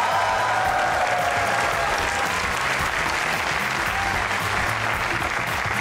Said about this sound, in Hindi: आपकी भरपूर तालियों में इमरान नज़ीर और वाबियास।